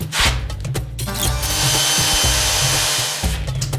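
Power drill boring holes through wood while building a glass-topped table saw crosscut sled, a loud steady whine with brief stops and restarts, close up and alone.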